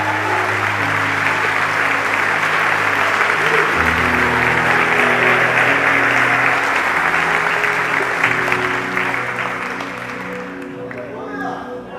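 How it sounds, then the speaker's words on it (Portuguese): A church congregation applauds loudly and steadily for several seconds, close and dense, with voices and a sustained tone underneath, tapering off near the end. "Alguém para dar um aplauso, dar um glória"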